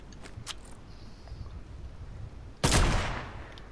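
A loud burst of video game gunfire rips out suddenly, sprayed into a bush after a stretch of quiet background ambience.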